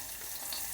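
Dried red chillies frying in oil in a pan for tomato chutney, a steady close sizzle with soft bubbling crackle, no voices.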